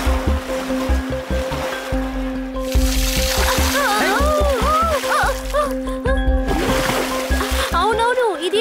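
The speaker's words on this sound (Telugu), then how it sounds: "చూసావా, కరెక్ట్ గా నా మొహానే నీళ్లు జల్లుతుంది" A dolphin splashes water at sea beside a boat, with surf and waves washing throughout, squeaky whistling calls rising midway and again near the end, all under a steady rhythmic musical bed.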